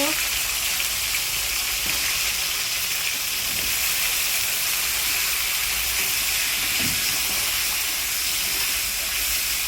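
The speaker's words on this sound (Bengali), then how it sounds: "কপিগুলো তেলে দিয়ে দিলাম, লাল লাল করে কপিগুলো ভেজে" Cauliflower florets fry in hot oil for a pomfret fish curry, giving a constant loud hiss and sizzle that carries on without a break.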